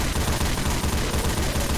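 Dense, continuous rapid gunfire from the Left 4 Dead 2 zombie shooter fills the whole moment, loud and unbroken.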